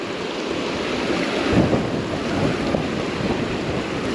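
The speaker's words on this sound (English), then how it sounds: "Wee bit of a blustery downstream wind." Blustery downstream wind buffets the microphone beside the River Dee in Scotland, a loud continuous roar with gusts swelling and easing, mixed with the wash of flowing river water.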